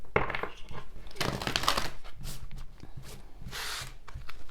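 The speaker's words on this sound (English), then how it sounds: "Let's do some shuffling." Tarot cards being shuffled by hand for a Halloween-themed deck, giving soft riffling rubs and papery flutters in short bursts, close and fairly quiet with no talking.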